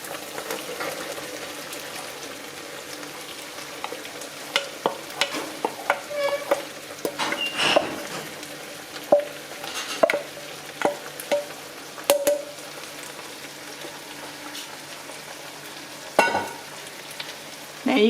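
Vegetables stir-frying in a pan for chow mein, a steady close sizzle with intermittent scraping and stirring knocks from a utensil.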